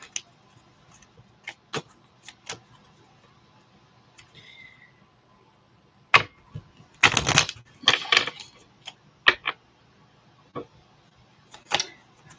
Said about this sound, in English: Actually, I'm going to give my deck a good shuffle here.